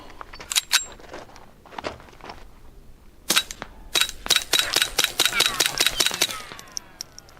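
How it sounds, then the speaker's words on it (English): Suppressed Colt 1911 pistol firing 12 rounds of Remington .22 ammunition: a few spaced shots, then a quick run of sharp, moderately loud cracks with faint mechanical clacks between them, close to the shooter. "let's try the Colt 1911. And let's try 12 rounds of the Remington ammo"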